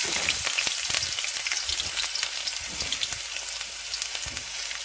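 Finely chopped onions hit hot oil for Indian-style veg chowmein, a loud close sizzle full of crackling spatters and pops that slowly settles to a steadier fry, no talking.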